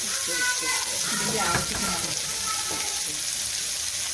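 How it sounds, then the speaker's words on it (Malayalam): Sliced onions sautéing in a pan toward golden brown for mushroom thoran, giving a dense, even frying hiss that stays close and loud throughout, while someone talks faintly over it. "സവോളയുടെ കളറൊക്കെ ഒന്ന് മാറി നല്ല ഒരു ഗോൾഡൻ ബ്രൗൺ ആവുന്ന വരെ നമ്മളിതിനെ ഒന്ന് വഴറ്റിയെടുക്കും"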